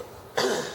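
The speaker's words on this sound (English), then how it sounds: "I'm coughing this morning." A single sharp cough from a person indoors during a case-covering craft project, close and fairly loud, followed by a brief fading tail and then quiet.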